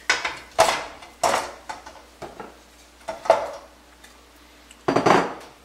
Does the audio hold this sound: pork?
yes